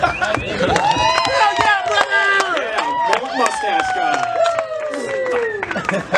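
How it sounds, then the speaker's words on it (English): A comedy club crowd in Austin cheers and claps, with dense, loud clapping and whoops mixed with shouts and rising and falling voices, and someone briefly speaks over the noise. "Cheer, clap, make some noise, do whatever"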